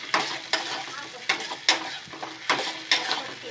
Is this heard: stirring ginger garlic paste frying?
yes